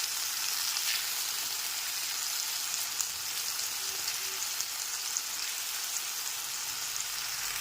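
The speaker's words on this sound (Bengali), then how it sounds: "টমেটোর বাটাটা দেওয়ার পর আদা রসুন বাটার সাথে খুব ভালো মতো একবার কষিয়ে নিতে হবে।" Tomato paste and ginger-garlic paste are sautéed in a pan for a Bengali potato curry, giving an even, unbroken frying hiss at moderate level with no voices.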